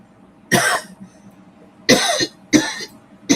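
A person coughs several times in short, harsh bursts, one single cough followed by a quick pair and another starting at the end, close and loud.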